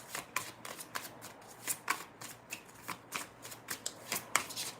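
A deck of cards being shuffled during a card reading, a steady run of crisp riffling bursts and soft flicks, close and fairly quiet, with no talking.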